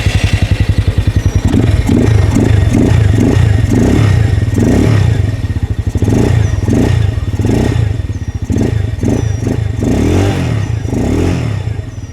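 A cheap Amazon-bought motorcycle with an aftermarket-sounding muffler fires up and runs, its single-cylinder engine thumping in a loud, close, steady rhythm while the throttle is blipped a few times, giving brief swells in pitch, with no one speaking.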